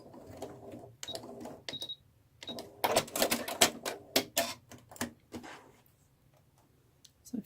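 Sewing machine stitching in short bursts while sewing a bunny gift bag, rapid close mechanical ticking and clattering for a few seconds, then stopping, with faint clicks around it.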